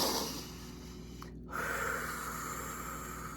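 Deep breathing during a guided meditation, a long slow breath with an audible inhale and pause, close and alone over a steady background hum.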